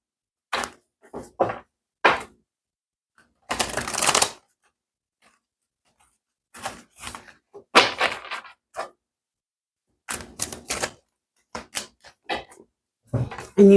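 Oracle cards shuffled by hand in several separate bursts of crisp riffling and flicking, with quiet gaps between them and no talking.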